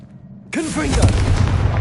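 A Confringo blasting spell in the Hogwarts video game goes off with a sudden loud burst after a half-second lull, then a rumbling, crackling blast that fills the rest of the moment with a voice mixed in.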